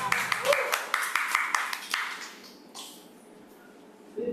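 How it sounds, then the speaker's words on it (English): Audience applause for a Toastmasters speaker, a short burst of scattered hand claps for the first couple of seconds that fades out, followed by quiet room tone and a brief voice at the end. "Please give a round of applause for Toastmaster Melissa."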